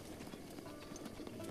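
Horses' hooves clip-clopping in the video game Zelda Breath of the Wild, a faint quick patter of hoofbeats under soft game ambience.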